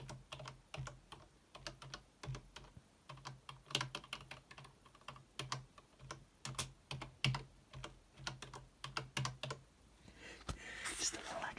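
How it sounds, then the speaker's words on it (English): Steady computer keyboard typing, quick clicks and key taps, close and soft, ending with a breathy rustle. "I have some little keyboard sounds."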